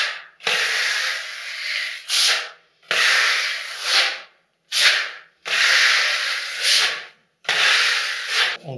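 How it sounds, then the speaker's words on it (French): A wide smoothing blade spreads gritty filler plaster across a ceiling in long, loud, scraping strokes, each about a second or more, separated by brief silent gaps, with no talk over them. "Je garnis, d'ailleurs on l'entend, hein, parce que c'est un enduit qui est un petit peu graineux"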